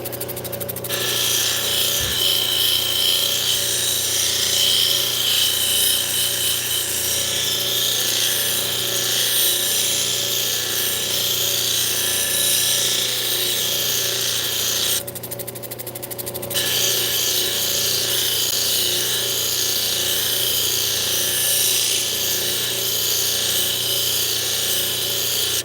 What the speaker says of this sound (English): I'm trying to not grind this down too far.